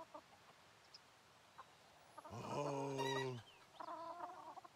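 A chicken on a farm in a cozy video game gives a short, loud burst of clucking, then a few quieter clucks, against a faint, quiet background.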